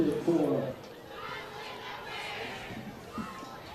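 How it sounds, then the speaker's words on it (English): Crestview fans in the stands at a high school football playoff game cheer and chatter, a distant crowd murmur under a commentator's voice. "Crestview faithful still hanging around here and cheering on their squad"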